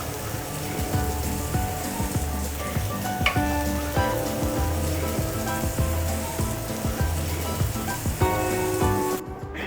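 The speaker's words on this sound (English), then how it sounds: "In a large pot, we're going to add olive oil and saute our garlic and our onions." Garlic and onions sauté in olive oil in a large pot with a steady, crackling sizzle that runs throughout under background music.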